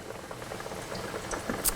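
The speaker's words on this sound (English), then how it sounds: "depending on how many you're frying, you may have to add more oil to it" Breaded schnitzels frying in oil in a pan on medium-high heat, a steady close crackle and sizzle with popping bubbles throughout, no voices heard.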